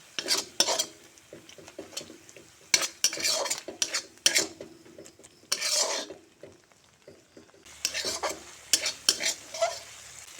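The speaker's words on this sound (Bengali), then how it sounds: "এখন মশলা দিয়ে অল্প জল দিয়ে দেব এখন ভালো করে মশলা কষিয়ে নেব" Spices mixed with a little water are stirred and fried in a pan while cooking a fish curry with potato and cauliflower. A spatula scrapes in bursts over a soft sizzle, with short gaps between strokes.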